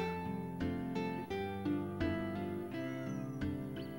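A cat meows in the Final Fantasy video game, a run of drawn-out, tonal mews that sound fairly loud and steady, with no voices over them.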